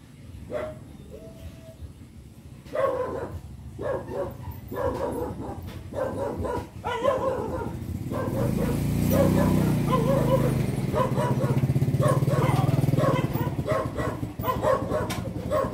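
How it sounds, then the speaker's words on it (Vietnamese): Several dogs bark repeatedly in quick, uneven volleys at mid distance, continuing throughout over a low rumble of background noise, with a few whimpers and yips mixed in. "bên này chó nó sủa quá trời sủa"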